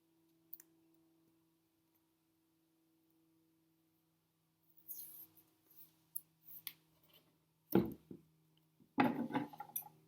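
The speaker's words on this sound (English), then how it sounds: "So I'll get a piece of tape here." A strip of electrical tape is pulled and torn off the roll at close range in a quiet room, with several short ripping bursts and clicks after a low steady hum.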